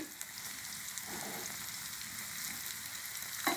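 A Thai-style mussel omelette crisping in a pan of oil, a soft, even crackling sizzle running steadily with a small knock near the end.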